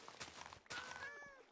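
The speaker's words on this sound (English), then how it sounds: "Oh, now there's two cats in here!" Two cats in Minecraft give short, fairly quiet meows, the second call sliding in pitch, with faint game background around them.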